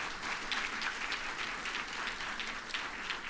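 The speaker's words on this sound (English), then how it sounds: "Would you give him a round of applause?" Audience applause at a retirement ceremony for a congressman in attendance, a steady, dense wash of clapping from a room full of people that holds evenly for about three seconds with no talking over it.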